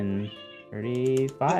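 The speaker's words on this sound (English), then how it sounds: "Someone's cat is displeased." A displeased cat meows loudly and close up in a few drawn-out, wavering cries, with keyboard typing clicks in the background.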